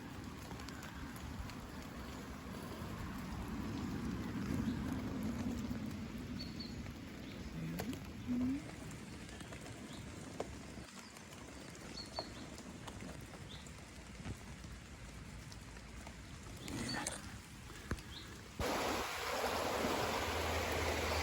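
A river runs steadily on a rainy bird-nesting walk, its broad, continuous wash close and fairly loud, with scattered faint bird calls and small knocks and rustles over the flow.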